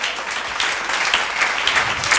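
Brief burst of audience clapping during a Tamil church sermon, a dense, moderately loud patter of hands lasting a couple of seconds.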